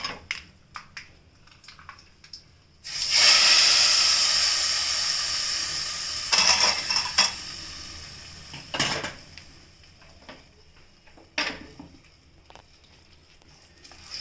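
Seasoning tipped into a pan of red amaranth pulusu bursts into a loud sizzle that slowly fades, followed by scattered clinks and scrapes of metal utensils against the pan.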